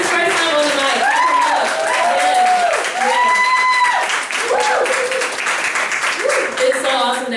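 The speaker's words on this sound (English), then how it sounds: "All right, clap them up one more time." An audience at a spoken-word open mic claps throughout while a voice speaks over the steady clapping, the applause forming a continuous wash beneath the talk.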